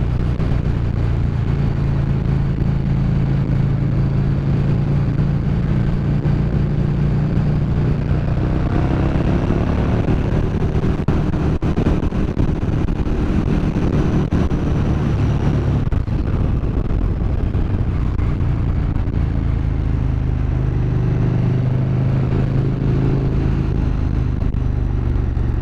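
A KTM Super Duke R motorcycle engine pulls hard under acceleration, a loud continuous roar with rising and falling pitch over wind rush throughout, steady and close with no speech.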